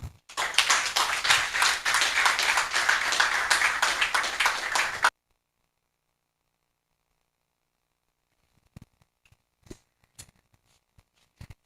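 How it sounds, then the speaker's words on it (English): Audience applause follows a public PhD defense presentation: steady, dense clapping from a seated crowd for about five seconds, then cutting off into near silence broken by a few faint scattered taps. "Another round of applause."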